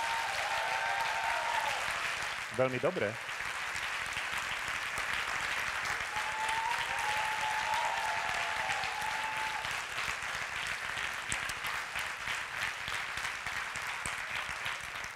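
Audience applause at an awards gala: a long, steady wall of clapping from a large crowd, with a brief spoken interjection near the start and faint tonal music partway through.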